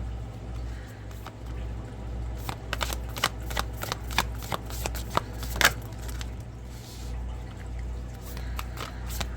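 An oracle card deck is shuffled by hand, giving a run of soft riffling flutters and card slaps over a steady low background hum, close and fairly quiet, with no speech.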